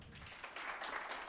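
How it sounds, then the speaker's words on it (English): Audience applause at a public forum, a short burst of steady clapping that swells after a brief quieter start and holds at moderate level, somewhat distant in a hall. "I think it's an applause."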